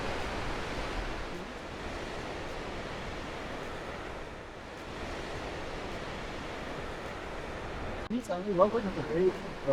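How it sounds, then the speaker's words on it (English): A continuous wash of ocean waves against the rocky Big Sur shore near Keyhole Rock, broad and rushing, with a brief burst of nearer splashing and clatter near the end. "Oh, just listen to the water."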